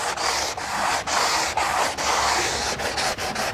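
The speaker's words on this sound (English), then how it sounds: "Sand it this way, cross hatch into it, out of it, come back up." An orange soft sanding sponge rubs back and forth in cross-hatch strokes over a curved surface, making a steady, close, breathy scraping broken by brief pauses at each change of direction.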